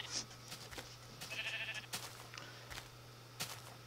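Sheep bleating in the video game Minecraft, a few short nasal bleats at moderate level over a steady low hum and scattered game clicks, with no talking.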